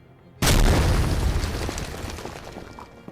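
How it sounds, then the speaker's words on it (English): A single loud dynamite blast bursts out suddenly after a moment of quiet, then rumbles and slowly decays into a long fading roar. "Prince later tried to use a crate of dynamite to fish off the Bastardsire. The explosion caused considerable damage"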